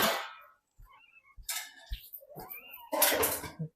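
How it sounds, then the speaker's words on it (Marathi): A cat yowls and meows several times up close at a pet seller's, mixed with a few metallic clanks, like a cage or dish being knocked. "मांजर पण आहे"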